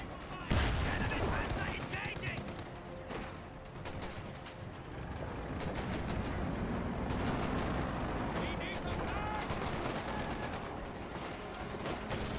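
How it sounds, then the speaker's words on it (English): Company of Heroes 2 battle gunfire as Soviet troops exchange fire with Pathfinders, dense bursts of machine-gun rattle and rifle shots crackling continuously over a rumbling battlefield, with a commentator's voice talking underneath. "Bolshevikers firing away against the Pathfinders."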